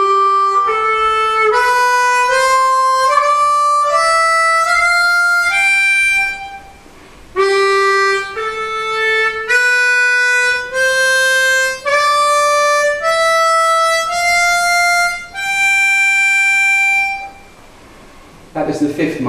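A harmonica plays an ascending G Mixolydian scale of single held notes, then descends again in a second run, bright and close with short breaths between notes.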